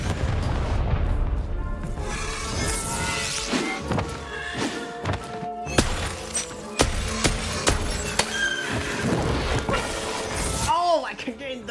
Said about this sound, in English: Then I play a bomb. Bombie goes and drops it here.